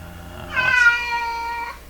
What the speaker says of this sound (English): that's my cat Peanut, in case you don't know.